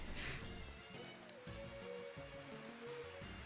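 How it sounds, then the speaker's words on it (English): Steady, hissing rain falls throughout, with soft music carrying sustained tones on top of the constant wash of noise. "Or is it just the rain? It's just the rain."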